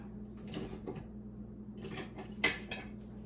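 A spoon or spatula clinks and scrapes around a bowl while mulberries are gently folded with sugar and cornstarch, soft intermittent taps, close and quiet.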